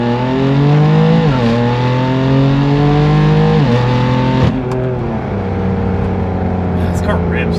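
An S55 engine with an AA single midpipe exhaust roars loudly while accelerating through several gears, each upshift dropping the raspy drone before it climbs again, with a person speaking over it.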